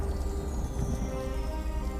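Steady heavy rain falling at night on a rural forest road outside a village, a continuous dense hiss with a low rumble that stays constant and loud throughout, with no voices.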